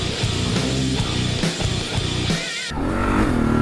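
Adventure motorcycle such as a Tenere 700 or KLR being ridden, its engine revving loudly and continuously, pitch climbing then shifting, up close over wind noise.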